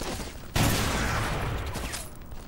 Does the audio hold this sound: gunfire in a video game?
yes